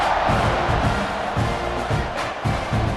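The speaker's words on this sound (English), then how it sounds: "this crowd is buzzing after that last score" A crowd roars and buzzes steadily inside a college football stadium during an EA College Football 26 simulation of Texas A&M vs Samford, with a loud, continuous mass of cheering voices throughout.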